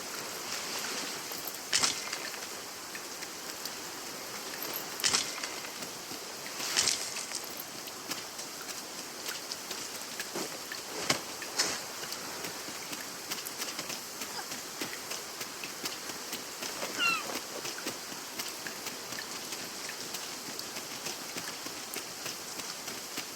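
A heavy downpour in the Dragon's Dogma 2 video game: steady, dense rain hiss fills the scene, with occasional sharper thumps and splashes breaking through the constant wash of water.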